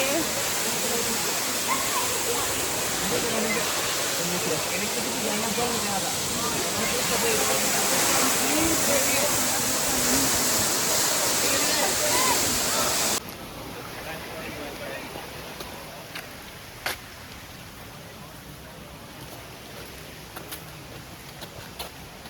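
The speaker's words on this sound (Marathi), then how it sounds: "सुंदर वॉटरफॉल आहे" A waterfall roars in a cloud-covered hill landscape in India, a loud, steady rushing wash that fills the first half before dropping abruptly to a quieter, softer flow of water.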